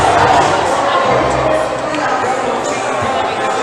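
Indoor crowd at a provincial top rope climbing final cheering on a climber, a broad, steady roar of voices and shouts close by, with an announcer talking over it.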